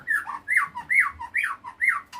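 A white-rumped shama (murai batu) repeats a bright, rising-and-falling call about every half second, close and loud with no other sounds around it.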